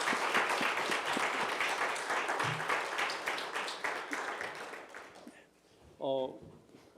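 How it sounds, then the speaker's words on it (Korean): A church congregation claps at a baptism service celebrating newly baptized members, a dense, lively round of applause that thins and fades over several seconds before a brief voice and a short tonal sound at the end. "큰 박수로 축하해 주시면 감사하겠습니다."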